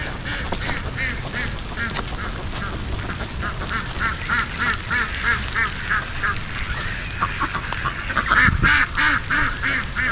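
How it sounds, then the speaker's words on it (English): Ducks quack repeatedly near a full pond in an outdoor yard, a dense chorus of close, overlapping calls with a louder burst toward the end, over faint background noise. "The ducks are looking for some food."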